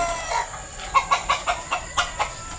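A chicken gives a run of about eight sharp, evenly spaced clucks, near and clear over a quiet outdoor background.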